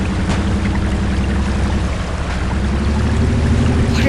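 In the video game Spintires MudRunner, a truck drives through a river: a heavy, continuous low engine rumble blended with rushing, churning water, loud and close with no speech.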